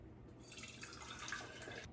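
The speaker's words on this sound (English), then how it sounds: "you just get another jar, strainer, and then just pour it through" Herbal infusion poured from a jar through a strainer into another jar: a soft, steady trickle and patter of liquid lasting a little over a second, fairly quiet and close, with no talking.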